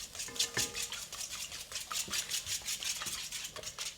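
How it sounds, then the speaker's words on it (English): An egg whisked in a bowl for mushroom pancakes, a quick steady rhythm of scraping and tapping strokes, close and fairly quiet, with no talking. "egg goes in, just gonna give it a little whisk"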